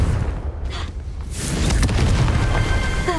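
A Confringo fire spell in Hogwarts Legacy bursts as a loud booming explosion, swelling into a sustained rumbling roar that fills the rest of the moment, with no voices over it.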